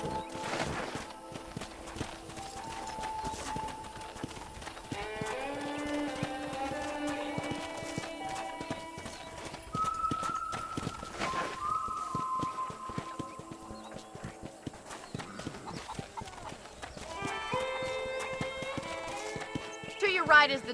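Horse hooves clip-clopping at a steady walking rhythm while riding in the video game Red Dead Redemption 2, moderately close, with voices talking over them and some music.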